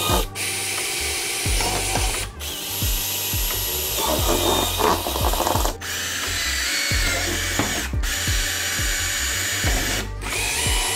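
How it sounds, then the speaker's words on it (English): A power drill bores mounting holes for widebody front fenders on a C6 Corvette, running in repeated loud bursts with brief pauses and ratcheting, close up with no talking. "So we have all the kinds of these to drill out"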